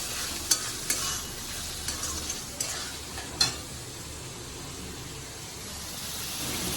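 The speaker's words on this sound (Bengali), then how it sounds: "একটু নেড়ে দিই" Spice paste with shrimp being stirred in a frying pan, a continuous oily sizzle punctuated by several sharp spatula taps and scrapes against the pan early on, then a steadier frying hiss.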